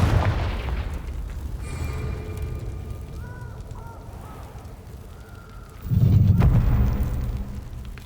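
A Confringo fire spell explodes in the Hogwarts Legacy video game: a loud, deep boom bursts in near the end and rumbles away, following a stretch of low rumbling ambience with faint tonal calls and chimes.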